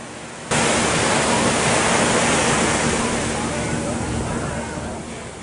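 Ocean waves break on the wide beach at Santa Monica pier, a broad, steady roar of surf that cuts in suddenly and holds loud and even for several seconds.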